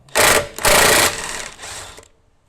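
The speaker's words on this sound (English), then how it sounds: "And I'll use my impact wrench. And the DeWalt's fantastic." A DeWalt cordless impact wrench loosens a car wheel's lug nut: two loud, rapid hammering bursts close by, then a quieter whir as the tool spins down and stops.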